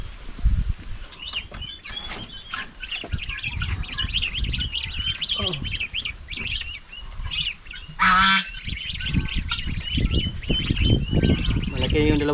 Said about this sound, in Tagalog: Malaki na yung dalawang gansa dito.